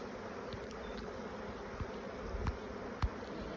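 Honeybees at an opened beehive hum in a continuous, dense buzz, with individual bees passing close now and then over the steady swarm.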